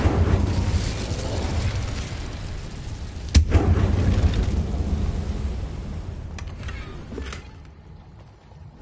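An Incendio fire spell in Hogwarts Legacy bursting with a sharp blast, followed by a sustained roaring, crackling rumble that fades toward the end, with a second smaller burst later.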